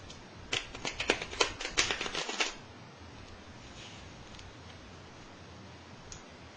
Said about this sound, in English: I like to take them and shuffle them into each other gently